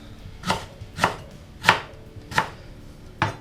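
A knife roughly chops ginger on a cutting board in five evenly spaced, firm strokes, with no talking.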